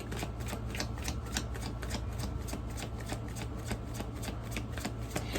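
Tarot cards are shuffled close up in a quick, steady riffling patter that continues throughout, fairly quiet, with a low hum underneath and no speech.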